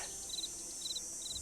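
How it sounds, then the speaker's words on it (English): Crickets chirp in the video game Nancy Drew: Ghost Dogs of Moon Lake, three short trilled bursts at a steady pace over a faint outdoor hiss. "It's also nice that all of the bugs chirp like crickets."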